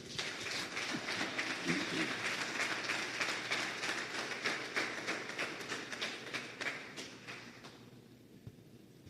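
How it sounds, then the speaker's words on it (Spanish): A church congregation claps loudly for the Lord in a sustained, dense burst of applause that thins out and fades away toward the end. "Denle un fuerte aplauso al Señor."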